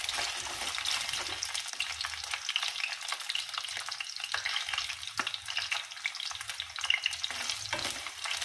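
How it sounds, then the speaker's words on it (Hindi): Soybean chunks fry in hot oil in a pan, a steady dense sizzle and crackle running throughout with occasional faint stirring clicks. "तो पहले हम इन सोयाबीन की बड़ी को इसमें भून लेंगे"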